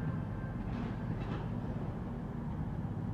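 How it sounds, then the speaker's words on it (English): A passenger train pulling into a station on a rail line running toward Plymouth via Gloucester, a loud steady rumble of wheels and engine that holds level throughout, with faint brake hiss. "Here comes this Warsaw train."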